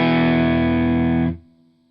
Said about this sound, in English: I want to add an overdrive pedal that's in loop 3.